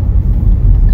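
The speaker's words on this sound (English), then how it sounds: "Audi A4 2-litre TDI 190 S-Line Avant S-Tronic" A 2017 Audi A4 2.0 TDI 190 S-Line Avant S-Tronic diesel estate gives a loud, close, steady low engine rumble, alone and unbroken for a moment.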